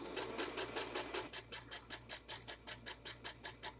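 A sewing machine stitches fabric in a steady run of rhythmic mechanical pulses, briefly reversing for a back stitch, with a low motor hum beneath, close and fairly quiet.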